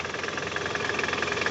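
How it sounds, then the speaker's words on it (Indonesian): Steady Toyota Camry engine idle with a rhythmic knocking rattle from a faulty balancer shaft and loose engine mounting, close and fairly loud, no voices. "bunyi abnormal ya dari area engine mounting dan balance resap ya"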